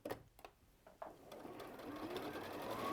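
Sewing machine stitching during a quilting session, a short burst of stitches at first, then a steady, fast, continuous whirr that builds slightly in loudness and runs alone close by.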